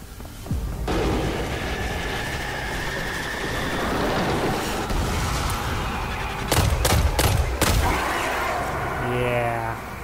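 Hand cannon gunfire in the video game Destiny 2, a handful of sharp shots cracking out near the end over a dense, roaring combat soundscape.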